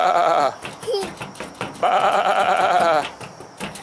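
Goats bleat in a backyard with loud, wavering, nasal calls, two long ones and several shorter bursts close by. An adult may be imitating the bleats, and the calls are hard to tell apart from the real animals.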